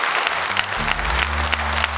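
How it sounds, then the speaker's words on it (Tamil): Audience applause welcoming a speaker onto a Tamil talk-show stage, dense clapping throughout, with sustained music tones entering partway under it. "ஒரு கைத்தட்டல் கொடுத்து நம்ம அவரை வரவேற்கிறோம்"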